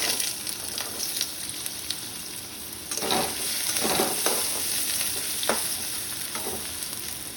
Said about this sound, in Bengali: তেলটা গরম হয়ে গেছে, এখন আমি আলুটা ভেজে নেব